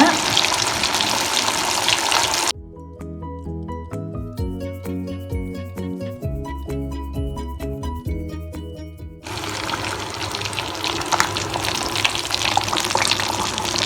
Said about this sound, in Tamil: இந்த மாதிரி ஒன்றா போட்டு பொரிக்க போகிறோம் நம்ம.